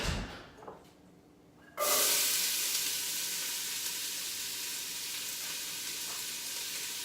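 Hot oil starts sizzling loudly in a pan as lentils are cooked for dinner, beginning after a brief quiet stretch and then holding as a dense, steady hiss close by.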